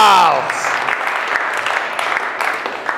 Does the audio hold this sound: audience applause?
yes